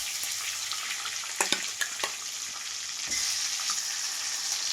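Fish frying in oil in a home kitchen, a continuous crackling sizzle at moderate level punctuated by a few sharp utensil taps and scrapes, close by with no talking.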